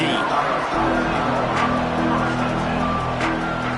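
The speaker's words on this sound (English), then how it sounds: "This crowd ready to make its presence known." A stadium crowd in an NCAA football video game keeps up a steady loud roar, with a commentator talking over it throughout.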